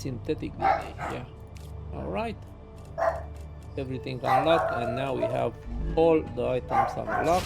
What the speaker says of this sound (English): if you can hear the dogs barking in the back